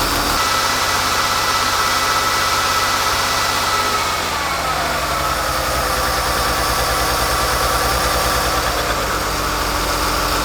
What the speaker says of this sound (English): What I'm doing here is I'm adjusting the idle.